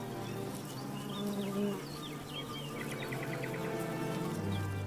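Honeybees buzz and drone close by in a busy, continuous hum, with individual wingbeats rising and fading as insects pass near.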